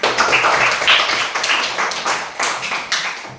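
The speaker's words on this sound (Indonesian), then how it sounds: "Silakan tepuk tangan." Students in a classroom clap for a group that just finished presenting, a smaller, uneven patter of hands with distinct individual claps, close and fading toward the end.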